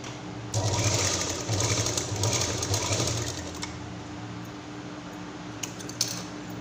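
A home sewing machine stitches across the zipper teeth of a small key chain purse, a steady close mechanical whirr running in bursts for several seconds before easing into quieter handling.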